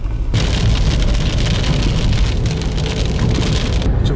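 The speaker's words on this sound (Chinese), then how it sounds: "今天我们这儿下点小雨儿" Steady rain pattering on surfaces outdoors during a rural outing, a dense, continuous hiss that starts abruptly after a brief quiet moment and stays loud throughout with no voices.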